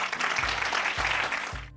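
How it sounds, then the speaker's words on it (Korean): A short burst of hand clapping, dense and steady, stands alone as a brief sound effect with no voices. "그러자 아내는 맞다며 손뼉을 쳤다."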